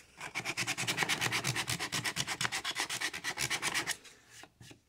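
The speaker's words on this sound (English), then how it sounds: "you also want to sand in here, okay? So I'm going to do this with 100 grit." Wood being hand sanded with 100 grit sandpaper for a phone amp, in quick, even rubbing strokes up close, with a few slower passes at the end and no voices.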